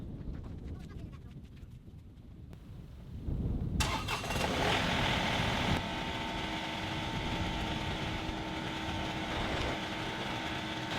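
A tractor engine running with a fuel issue, idling at first, then a louder rise as it catches and settles into a steady mid-pitched rumble, heard close up.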